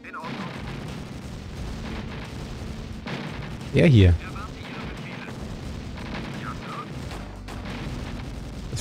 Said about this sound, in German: Wer schießt denn da noch?